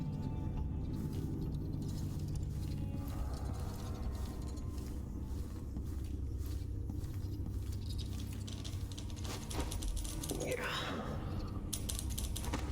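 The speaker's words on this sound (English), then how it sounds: "I hear typing." In the Dishonored video game, rapid keyboard typing patters steadily from somewhere above, mixed into a low ambient rumble with a brief muffled voice near the end.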